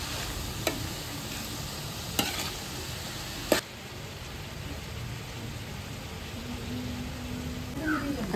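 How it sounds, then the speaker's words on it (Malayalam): Onions, ginger and garlic sizzle in hot frying oil with salt for a chicken curry, a steady close crackle broken by a few sharp clicks of a spoon stirring against the pan, with no talking. "ഉപ്പിട്ടിട്ട് ഒന്നുകൂടെ ഒന്ന് ഇളക്കുവാണേ."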